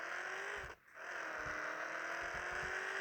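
A car engine in a video game drones steadily at moderate level with a constant hum, briefly dropping out once before resuming unchanged.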